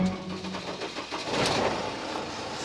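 An old Mercedes with a 646 diesel engine cranks and catches, stumbling slightly before settling into a rough idle. The engine is heard up close at moderate loudness, with no talk over it.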